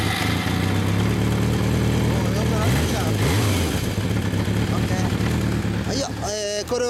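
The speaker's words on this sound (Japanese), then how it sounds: "でもエンジン音聞かせてもらえる。" A 1993 Kawasaki Zephyr 400 motorcycle with a 399 cc engine and stock muffler idles close by in a steady, low rumble, and brief voices break in near the end.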